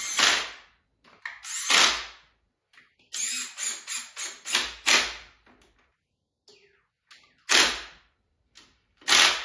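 A Snap-on electric impact wrench at work during final assembly of a 428 Cobra Jet engine, firing in a string of short, sharp, close bursts of whirring, rattling hammering separated by brief pauses, with no talk.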